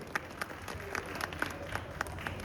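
Scattered applause from an audience at a folk performance, a thin patter of claps with a few sharper hits, fairly distant and light over a steady room hum.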